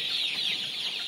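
A flock of 38-day-old Sonali hybrid chickens clucks continuously on a farm, a dense, steady chorus of soft calls with no talking.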